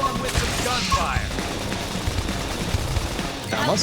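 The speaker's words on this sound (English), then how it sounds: "couple them with some gunfire" Gunfire in Xenoblade Chronicles X combat: dense, rapid shots crackling together with other battle effects, fairly loud and continuous, with some voice and speech in the mix.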